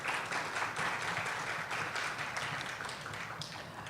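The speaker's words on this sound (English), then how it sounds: "if we can give them a round of applause." Audience applause for panelists at a conference session, a steady, fairly soft patter of many hands clapping without pause.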